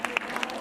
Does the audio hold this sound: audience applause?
yes